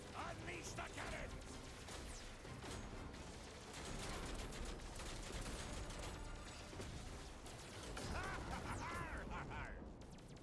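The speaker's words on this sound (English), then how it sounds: "Unleash the cannons!" Cannon fire from the Star Fox 64 remake video game, a dense, continuous barrage of booming shots and crashing blasts layered throughout, with voices talking over it.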